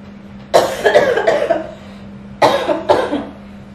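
A person coughs in two separate bursts, the first a quick cluster of three or four harsh coughs, then a pause and two more, close and fairly loud over a steady low hum.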